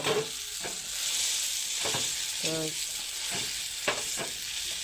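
Mashed boiled potato goes into a pan of softened tomatoes for a spicy village-style aloo bhorta with dry chilli, giving a steady broad sizzle with a few soft scraping stirs and a brief tonal clink, no talking.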